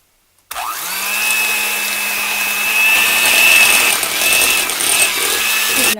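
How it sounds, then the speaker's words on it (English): Electric mixer beating eggs into snickerdoodle dough. It starts abruptly after a brief silence, then gives a steady, loud motor whine that carries on with small shifts in pitch. "So we're going to mix the eggs in."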